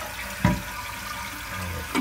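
Toilet flushing after a minor tank repair with a new flush valve, a steady rush of running water with two short clunks of the handle or flapper.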